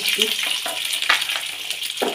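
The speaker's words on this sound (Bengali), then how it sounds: "তেলের মধ্যে পেঁয়াজটা দিয়ে ভেজে দিলাম।" Sliced onion sizzles in hot oil in a pan for a Bengali kopta curry, a close, bright crackling hiss with small bursts as the pieces are stirred.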